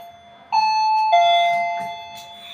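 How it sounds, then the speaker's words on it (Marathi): A household calling bell chimes twice, a clear, close ding-dong with each bright tone ringing on and slowly fading, over a faint background with no talk. "कॉलिंग बेल आहे ती"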